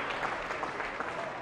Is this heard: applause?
yes